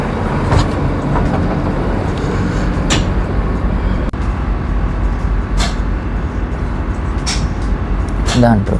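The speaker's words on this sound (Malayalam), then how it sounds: "അപ്പം നമ്മുടെ ട്രെയിൻ വന്നിട്ടുണ്ട്." A train pulls into a station in Germany with a constant low rumble, sharp bursts of hissing brakes and a thin squeal near the end, while people talk over it.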